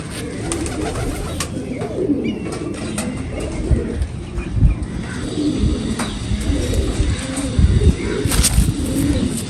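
Domestic pigeons in a breeding loft coo in low, soft, repeated bursts, near and moderately loud, over a steady background murmur with occasional rustles.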